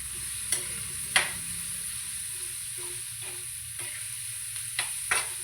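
Sliced onion stirred in a hot pan of frying green beans, with a constant bright sizzle under several sharp scraping clicks of a spoon against the pan, close by and with no talk.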